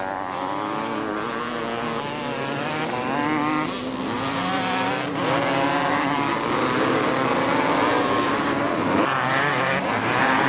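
A 250 Yamaha quad bike races on Southport beach in 1992 alongside other machines, and the engines give a loud sustained buzzing roar with rising and falling pitch as they pass near.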